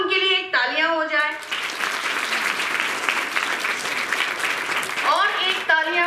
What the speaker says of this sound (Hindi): क्यों ना उनके लिए एक तालियां हो जाए